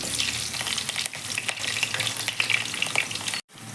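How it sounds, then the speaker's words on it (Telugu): Mustard seeds, cumin and chopped onion frying in hot oil for a fish curry, a dense close crackling sizzle with stirring, cut by a sudden brief gap near the end. "ఇప్పుడు ఆయిల్ హీట్ ఎక్కాక ఆవాలు జీలకర్ర అలానే మనం ముందుగా కట్ చేసి పెట్టుకున్న ఆనియన్ వేసి బ్రౌన్ కలర్ వచ్చే వరకు వేయించుకోవాలి"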